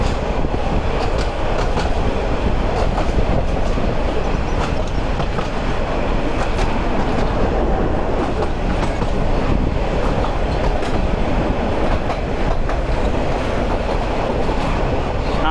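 Chattogram University shuttle train running on rails, a loud continuous rumble with rhythmic wheel clatter heard from on board, steady throughout with no talk.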